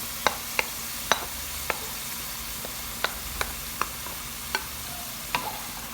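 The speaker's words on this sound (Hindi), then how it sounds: "मटन को 2 से 3 मिनट तक हम भूनेंगे इन्हीं टमाटोस के साथ।" Marinated mutton frying with tomatoes and masala in a pan: a constant soft sizzle with regular sharp ticks of a spoon striking the pan, about a dozen evenly spaced taps, with no talking.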